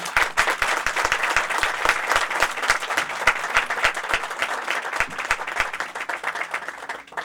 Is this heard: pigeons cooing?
no